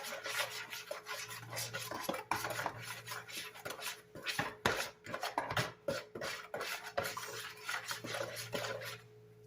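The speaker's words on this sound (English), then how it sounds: "Now we're going to mix this up." A ranch coating for potatoes is mixed in a bowl, giving close, quiet scraping and clinking of a utensil against the bowl in irregular strokes over a low steady hum.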